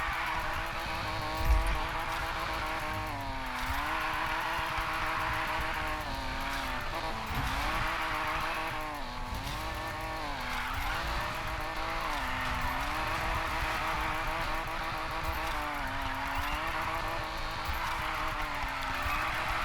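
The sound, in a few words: Lamborghini Huracan car drifting in Need For Speed Payback video game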